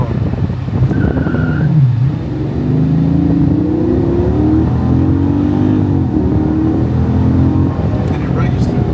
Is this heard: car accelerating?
yes